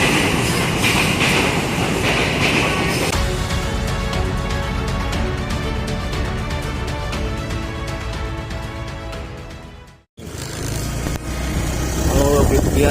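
A loud KRL commuter electric train in South Jakarta roars past close by, a steady heavy rumble with rhythmic clacking, broken by a sudden brief dropout before the noise resumes.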